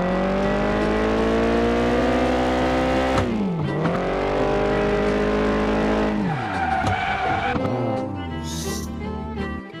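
A fast car on a highway in the GTA mobile video game: a loud, sustained engine whine swooping up and down through gear shifts, with tire skids near the end, alone without talk.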